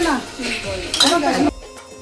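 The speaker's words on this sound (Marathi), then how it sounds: "भांडी कसत आहेत तिथे" Dishes and metal pots clatter and clink as they are scrubbed at a family gathering, sharp close knocks over steady talk from women and children nearby.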